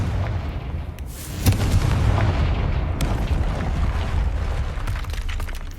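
A Confringo blasting curse in Hogwarts Legacy bursts with a sharp boom followed by a low rumbling roar that lingers under steady ambient wind-like noise.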